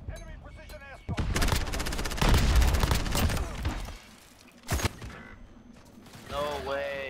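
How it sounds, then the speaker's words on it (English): A video game enemy precision airstrike with gunfire: a dense, loud burst of rapid shots and mechanical rattling rises into a heavy roar, then a sharp blast follows, with voices talking at the start and end. "Enemy precision airstrike."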